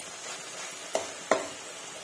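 Two quick, faint clinks of a spoon against a pan while a curry-leaf curry is stirred, over a soft, steady background hiss.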